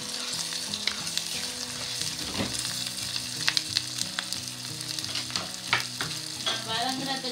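Onions and spices sauté with salt in a pan for a Sri Lankan chicken curry, a steady loud sizzle with scraping stir strokes and clinks throughout, no talk.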